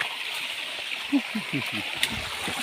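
Steady rushing of stream water flowing near waterfalls, a broad continuous wash with small splashes throughout, while someone talks over it nearby.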